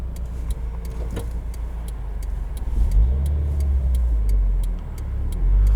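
A 2020 Subaru WRX with a manual gearbox drives along, its low engine drone steady and close, rising slightly as the car nearly stalls, with faint clicking over the road noise.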